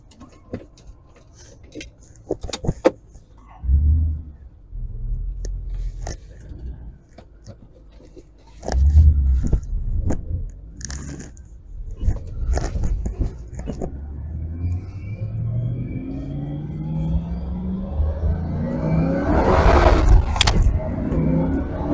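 A 2005 Ford GT with 550 hp on a road test: engine bursts and revs rise and fall, with gear-change swells and a building roar toward the end, heard from inside the moving car.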